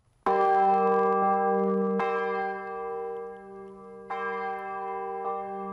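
A church bell hung in a newly built bell frame in Wittenberg rings out loud and close, struck several times with long sustained humming decay between strikes.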